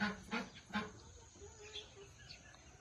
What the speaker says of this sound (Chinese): 这鸽子跟着我肯定是饿了。